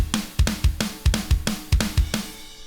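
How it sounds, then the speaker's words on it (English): A double-time skate punk drum groove from a DIY punk rock MIDI pack: fast, driving kick and snare hits with bright cymbals in a tight, loud repeating pattern. "if you're going for your classic skate punk groove, then you want double time. It sounds like this."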